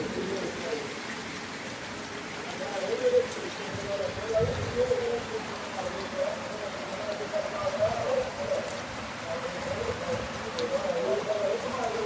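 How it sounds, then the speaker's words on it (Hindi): Heavy stormy rain on a morning outing pours steadily as a dense hiss that runs the whole time, with a few faint bird calls behind it. "यकीन कर को फुल तेज बारिश होंदी पई है।"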